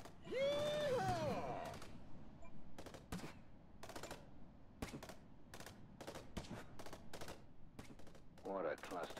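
Gunfire in the video game Alien Marauder: a series of sharp, separate shots and short bursts at irregular intervals, fairly close, with a voice groaning or exclaiming at the start and again at the end.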